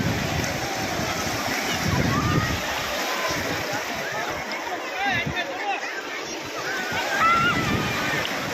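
Sea waves wash onto the shore at Koliyak beach in a continuous roaring, sloshing surge, with voices talking over the water.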